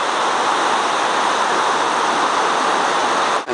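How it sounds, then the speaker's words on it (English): Waterfall torrent rushing down into a stream in the California desert southwest, a dense, deafening, unbroken roar of water filling the whole clip, close and loud. "the water is rushing down here into this stream"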